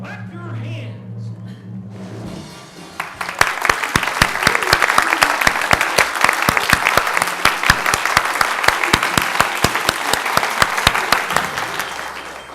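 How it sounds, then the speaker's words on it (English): A conference audience claps along to a letter-guessing game shown on screen, starting after a brief quiet moment with a faint voice, then a loud, fairly even burst of many hands clapping that carries on for about nine seconds. "If you think it's the letter H, clap your hands"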